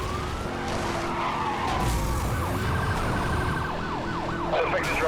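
Police siren wailing in the racing game Need for Speed Hot Pursuit Remastered, rising and falling sweeps layered over a roaring car engine and tyre skids, loud and continuous, with speech faintly mixed in.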